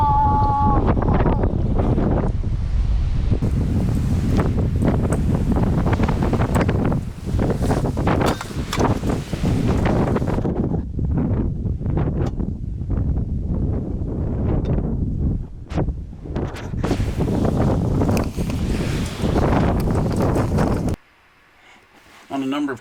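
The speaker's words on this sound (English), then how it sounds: "Listen to that wind." Strong wind buffeting a microphone outdoors at a rocky travel trailer site, a loud continuous roaring rumble with gusty surges, briefly dropping away near the end, with a voice exclaiming over it.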